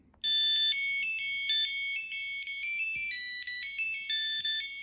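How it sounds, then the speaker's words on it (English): A 1997 Vodafone MN1 mobile phone plays its standard ringtone, a loud, bright electronic melody of stepping beeps that runs steadily for nearly five seconds, close to the microphone with no talking. "That's standard ringtone."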